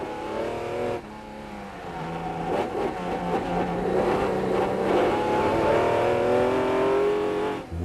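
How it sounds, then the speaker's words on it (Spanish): A Jaguar D-type race car laps the Silverstone circuit, its engine roaring loudly and continuously, pitch rising and falling through gear changes and acceleration, heard close throughout. "Así es una vuelta al circuito de Silverstone en un Jaguar tipo D."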